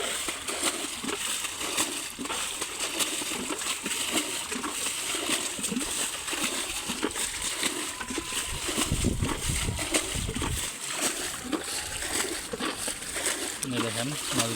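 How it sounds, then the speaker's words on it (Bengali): Water being bailed out of a winter wetland pond by hand so fish can be caught, with steady splashing and sloshing throughout and people talking over it. "দেখেন মাছগুলো তারা কীভাবে পানিগুলো হিঁচতেছে"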